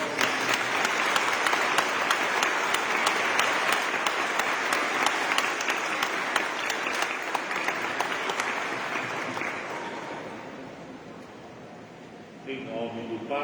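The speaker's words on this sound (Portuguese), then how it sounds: "saudemos a nós uma grande salva de palmas" A church congregation applauds during a solemn feast-day Mass for Saint Anthony, with dense, even clapping that fades after about ten seconds before a voice begins speaking.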